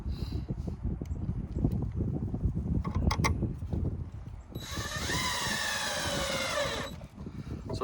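A power drill drives 3/4 inch screws into a bracket on a wooden owl box, with a loud whining burst of several seconds rising over scattered handling clatter and knocks.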